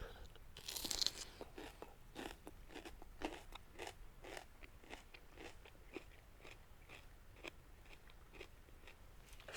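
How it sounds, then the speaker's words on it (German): Jojo bites into a raw bell pepper while sitting in the woods, with one loud crisp snap followed by a long series of close, regular crunchy chewing sounds at low overall volume. "Jojo sitzt im Wald und isst Paprika"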